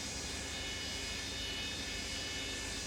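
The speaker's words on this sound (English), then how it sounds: "our engines are started now" Boeing 727 engines idling after start in Microsoft Flight Simulator 2024, a steady broadband roar with a high whine, constant and unbroken throughout.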